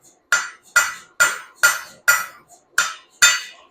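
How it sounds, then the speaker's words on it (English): A hammer forges a steel billet on an anvil, landing about eight evenly spaced, ringing metallic blows close by, each followed by a brief decaying ring. "I just want to forge this down just a little bit."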